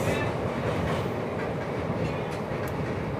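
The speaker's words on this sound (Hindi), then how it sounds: "ये क्रॉसिंग रिवर पे, वो भी किसके साथ, ये तो देख लो, वंदे भारत एक्सप्रेस।" A Vande Bharat Express train crosses a river bridge, making a loud, steady, close rumble with faint rhythmic rail clatter throughout and no talking.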